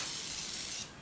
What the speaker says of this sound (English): So when you spray it on, you want to coat the surface.